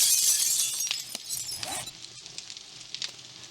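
Glass shatters in the video game 7 Days to Die, a bright crash followed by scattered tinkling fragments settling and a few faint clinks as it fades.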